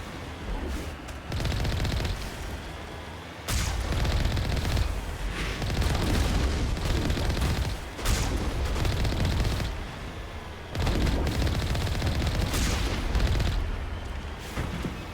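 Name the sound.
gunfire from enemies shooting in Mass Effect video game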